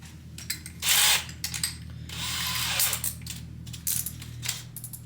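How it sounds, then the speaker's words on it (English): A power drill fitted with a Diablo extension bores up through a wood backing piece for a coffered ceiling, with bursts of whirring drill noise and mechanical clicks between them, heard close and fairly loud with no talking. "I'm going to drill up through our backing piece here and just get a slight countersink in there"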